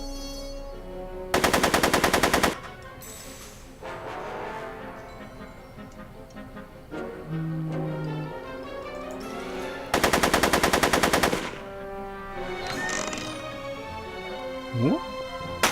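Gunfire in the video game Back to the Future: The Game: two long, loud bursts of rapid automatic fire several seconds apart, with game music and voices in between.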